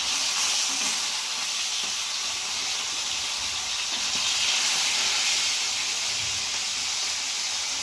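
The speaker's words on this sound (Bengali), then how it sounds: "মাছ ভাজার জন্য তেল গরম হয়ে গেছে, আর এখন আমি মাছগুলো একে একে দেবো" Fish fry in hot oil in a home kitchen, giving a loud, continuous hissing sizzle that holds steady throughout with no voices.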